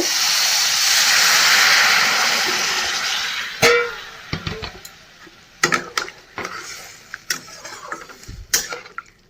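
Water poured into a hot pan of sautéed spices while cooking a raw banana curry bursts into a loud hissing sizzle that slowly fades, followed by scattered clinks and bubbling pops.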